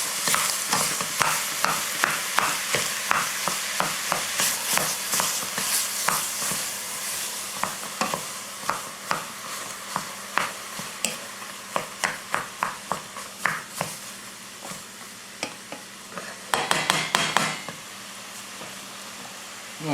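Ground beef sizzles and spatters in a pan with green pepper and onion for chili, a steady close frying hiss broken by a run of sharp spatula scrapes and taps that quicken toward the end.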